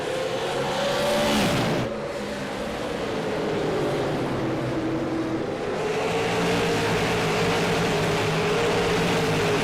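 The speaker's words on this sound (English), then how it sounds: "There you see a look through the entire field as they race by through turns 1 and 2" Stock cars of the SARA Pierce Fleet Super Series race through turns 1 and 2, engines droning loud and steady as the field passes, with pitch sweeping up and down, no talk over it.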